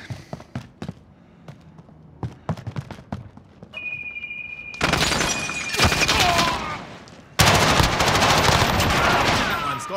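Gunfire in a Call of Duty team deathmatch on the Piccadilly map: scattered single shots, then dense sustained automatic fire in loud bursts with a brief gap between them.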